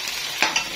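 Garlic frying in a pan is stirred with a spoon, a steady soft sizzle broken by two quick scraping strokes near the end, close and fairly quiet with no talking.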